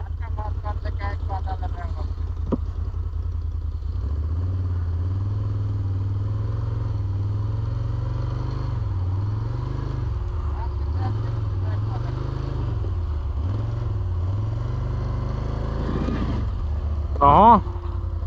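An ATV drives offroad over rough, wet ground, its engine droning steadily close by and revving in repeated surges, with clattering and splashing. People talk over it at times.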